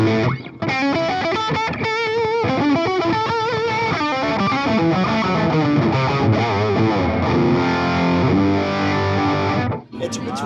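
Heavily distorted electric guitar through an Engl Steve Morse signature amp plays a dense run of notes and then sustained chords, loud and close, ringing out before a brief cut near the end.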